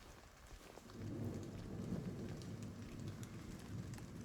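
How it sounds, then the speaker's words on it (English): Steady rainstorm at night in the Silent Hill 2 Remake, a dense wash of falling rain with a low rumbling undertone that swells after the first second and holds even, moderately loud, with no voices. "There's a rainstorm raging outside when night comes around"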